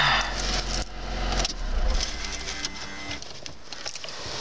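Homemade microcar starting up outdoors, a broadband mechanical clatter and buzzing engine with bursts of rattle, fairly close and steady throughout without talk.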